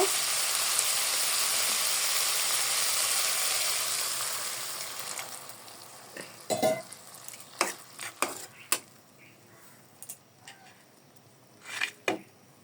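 Hot oil sizzles loudly as water is poured over fried cauliflower in a pan for a Bengali rohu fish curry, the hiss fading over several seconds into quiet, broken by sharp clinks and scrapes of a stirring utensil.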